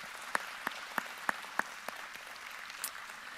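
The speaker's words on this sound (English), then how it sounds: "So another round of applause for Caroline," Sparse, quiet applause for a presenter at a trade week event, a handful of distinct claps spaced about a third of a second apart over a soft room background, tapering off.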